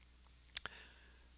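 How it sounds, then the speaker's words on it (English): A computer mouse gives a sharp, close double click, two quick snaps in a quiet room while a vinyl cutting program sends a job to the cutter. "I'm going to click send to cutter"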